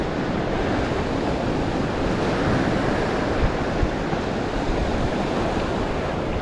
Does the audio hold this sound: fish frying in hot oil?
no